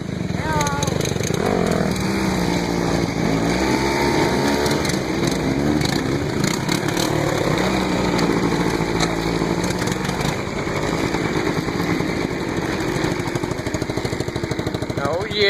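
Motorcycle and four-wheelers riding together outdoors, a steady loud engine drone with shifting revs throughout, continuous and close.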